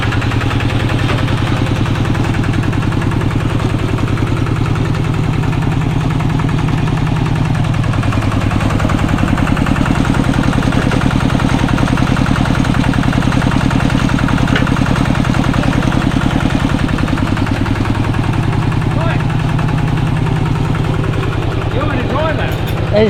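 A tractor called the Iron Buffalo runs steadily in Laos, its low, loud engine drone holding close throughout with a rough, throbbing idle and no voices over it.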